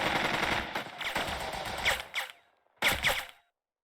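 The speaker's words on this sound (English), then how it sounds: "our squad just opened fire without a plan" Rapid automatic gunfire from a squad opening fire in the Burden of Command video game, a dense rattling burst that cuts off, then a short second volley.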